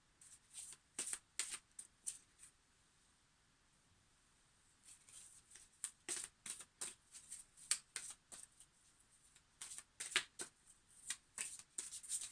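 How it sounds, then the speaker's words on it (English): Deck of cards shuffled for a card pull, with crisp riffling bursts coming in irregular clusters, close and fairly quiet, separated by short pauses. "I'm going to do a card pull and see what these cards wish to connect with today."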